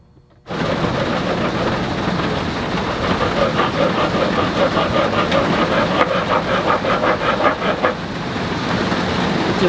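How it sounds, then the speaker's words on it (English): Heavy rain pours down during a strong thunderstorm outside a workshop, starting abruptly and continuing as a loud, dense, steady hiss with a faint rolling rumble underneath. "It just started pouring rain,"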